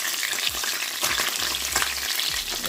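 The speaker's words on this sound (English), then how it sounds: "I turn them down so I can fry the bottom." Banga Mary fish fries in hot oil Jamaican style, a dense close crackling sizzle with a few scraping turns of the pieces, loud and without talk.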